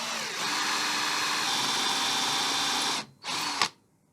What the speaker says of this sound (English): So I can clamp this in the vise, begin drilling that hole.